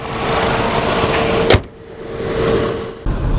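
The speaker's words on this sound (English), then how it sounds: "So driving the all-new 2022 MGHS" A 2022 MG HS Trophy compact crossover SUV on the move, its steady cabin road and engine hum running throughout, with a short sharp knock partway through and a brief drop in level before the drone returns.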